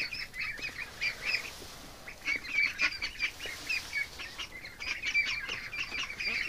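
Ducks quack repeatedly in a noisy group, overlapping calls throughout against steady background hiss, fairly close.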